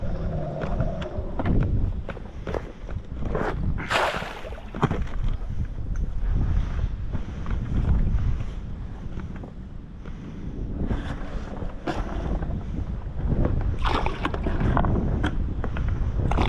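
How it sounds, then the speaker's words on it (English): Wind buffets the microphone beside a flowing river while carp fishing, with gusty, uneven rushing and occasional louder blasts throughout, no voices. "Wind's blowing me all over the place, combined with the flow."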